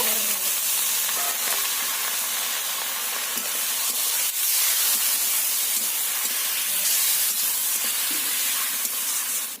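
Steady, loud sizzling of Bombay duck fish frying in a hot pan, a continuous crackling hiss with occasional stirring scrapes throughout.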